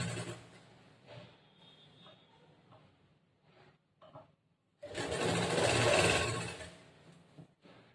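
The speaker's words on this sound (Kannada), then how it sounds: "ಜೋಡಿಸ್ಕೊಂಡು ಇದು ಹೊಲಿಗೆ ಹಾಕೊಂಡು ಬರಬೇಕು" A sewing machine stitches blouse fabric. It starts with a few brief, quiet runs, then gives one loud, sustained stretch of stitching lasting a couple of seconds.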